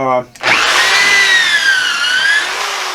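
A power drill bores pocket holes in wood for a DIY fishing and hunting storage center, a loud close whine that starts abruptly after a brief voice and runs steadily, its pitch dipping slightly as the bit cuts.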